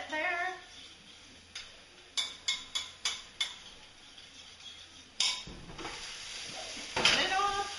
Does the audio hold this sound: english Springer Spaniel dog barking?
no